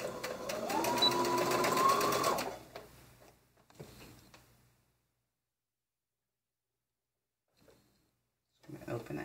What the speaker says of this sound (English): I'm going to be sewing this with the 5/8 of an inch seam allowance.